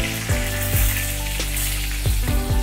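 Garlic, curry leaves and a bay leaf fry in hot oil for vada sambar, a loud, continuous close sizzle with a few stirring scrapes and bursts, no voice.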